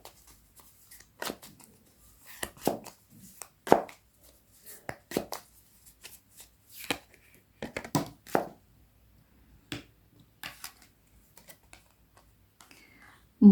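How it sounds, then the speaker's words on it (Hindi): Tarot cards are shuffled close by in quick bursts of riffling and soft slapping, uneven clusters repeating for several seconds with brief pauses between, no talk. "now let's shuffle more cards"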